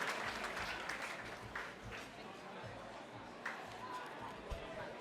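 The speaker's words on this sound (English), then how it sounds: "Big round of applause, ladies and gentlemen." An audience at an awards evening for a Most Inspiring Man of the Year honour claps in a fairly close, dense round of applause, mixed with crowd chatter and a few sharper claps standing out.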